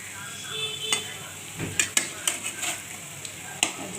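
Fritters of potato, papaya and bitter gourd in gram flour batter sizzle in hot oil, a steady close frying hiss broken by several sharp clinks and scrapes as the pieces are stirred and turned.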